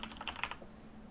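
Quick bursts of computer keyboard typing, a short run of light clicking keystrokes close up over a faint steady hum, then stopping after about half a second.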